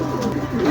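A racing pigeon gives a short, close, throaty coo in the middle of a pigeon race, a single brief burst heard alone without speech.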